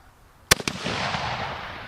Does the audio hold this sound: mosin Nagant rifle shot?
yes